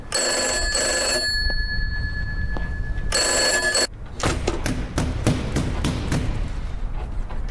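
An old-style telephone in a horror video game rings in two loud, shrill bursts separated by a pause, followed by a run of sharp thuds and knocks.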